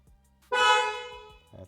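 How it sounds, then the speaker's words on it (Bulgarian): A single sustained car horn blast from a Mercedes C43 AMG, loud and close, held for about a second with a brief faint bump of sound just after it stops. "Клаксона, знаеш как се пуска?"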